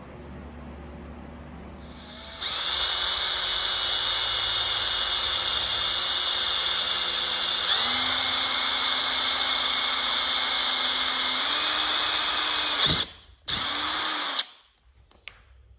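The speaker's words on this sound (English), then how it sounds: "so I'll go ahead and drill that out." A power drill whines steadily at high speed for several seconds, drilling a hole in a Pro Taper handlebar on a Honda Navi, its pitch shifting slightly as it bites, then stops briefly, restarts, and winds down.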